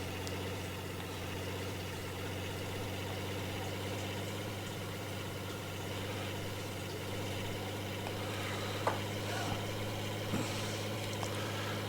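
A truck's 6.0L gas V8 engine in a video game runs with a low, steady, droning hum and only slight changes in pitch, fairly quiet and with no talking.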